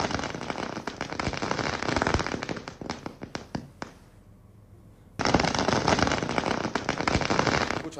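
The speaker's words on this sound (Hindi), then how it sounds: "जहां लोग आतिशबाजी कर रहे हैं, खुशी मना रहे हैं।" Dense strings of firecrackers and fireworks crackle and pop in rapid bursts at an outdoor celebration, loud and continuous, breaking off briefly into quiet before the crackling resumes just as intensely.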